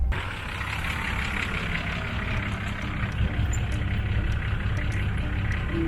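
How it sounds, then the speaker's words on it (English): A 4WD vehicle spins a wheel to dig into beach sand on a South Australian coastal track, a steady, loud engine drone with rough low rumble running throughout, no talk. "Actually create a little bit of wheel spin here to dig my left wheel in."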